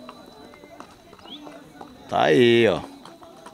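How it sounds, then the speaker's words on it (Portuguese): Quarter horse mare at a horse fair in Altinho, Pernambuco, clip-clopping as she is led in a circle; light hoof taps run under nearby conversation, broken by a brief loud voiced burst midway. "Uma égua. Quarto de milha."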